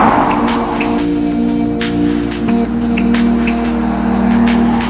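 An Audi RS7 Performance Package accelerates hard, its engine droning loudly with steady low harmonics and a slight shift in pitch midway, heard from inside the car with some wind and road noise.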